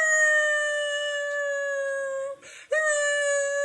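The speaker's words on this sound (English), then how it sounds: "Try to get your dog to bark." A dog howls in long, steady, high wavering tones, heard through a phone speaker. The howl holds almost without a break, dips briefly, then resumes loud and close.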